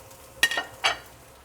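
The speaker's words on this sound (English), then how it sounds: "I'm just going to add a bit more oil. I'm going to add the rest of the vegetables" Two quick bursts of sizzling and scraping come as vegetables for chicken stir-fry hit the hot oiled wok and are tossed, each under half a second, over a quiet background with no speech.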